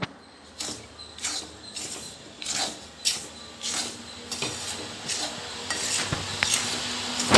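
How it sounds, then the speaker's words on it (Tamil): Roasted ingredients being stirred into a rava laddu mixture of semolina, milk and ghee in a pan, giving repeated scraping strokes roughly every half second, fairly close and steady with no talking. "இப்போ நம்ம வறுத்து வச்ச பொருட்களை இதில் கலந்துடலாம் இப்போ நல்லாவே வந்து கிளறி கொடுத்துடலாம்"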